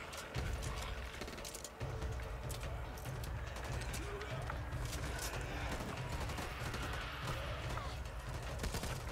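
Rapid bursts of gunfire in the game Back 4 Blood crackle over a constant low hum and background music, with sharp shots scattered through the whole stretch.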